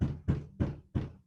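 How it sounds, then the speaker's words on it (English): Four firm knocks on a door land at an even, steady pace, close and hollow-sounding with a short resonant tail after each. "somebody's knocking on my door."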